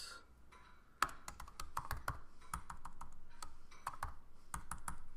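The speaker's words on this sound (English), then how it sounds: "A little trouble typing here." Quick, uneven clicks on a computer keyboard while Swift code is typed, a run of crisp keystrokes in short bursts with brief pauses, fairly quiet and close.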